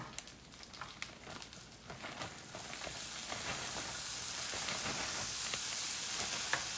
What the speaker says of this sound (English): now we're going to put a little bit of cheddar into the pan